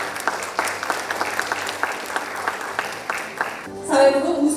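Applause at the 2025 The Fact ESG management award ceremony in Korea: a steady round of clapping fills the room, then gives way to a brief tonal sound near the end.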